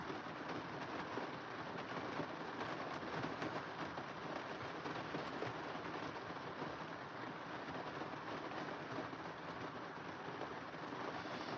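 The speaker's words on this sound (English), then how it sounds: "that rain is getting faster" Steady rain falls as a faint, even hiss that holds unchanged throughout, with no voices over it.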